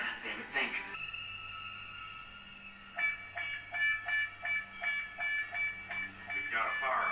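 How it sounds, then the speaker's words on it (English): Fire alarm in a 1988 action film scene, a rapid run of ringing, pulsing alarm bursts over a low hum, with tonal bleeps and a brief clatter at the start. "We've got a fire alarm."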